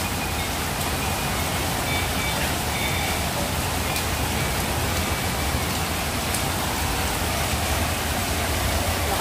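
Heavy rain in Al Satwa, Dubai pours down in a dense, constant hiss, loud and unbroken throughout with no pauses.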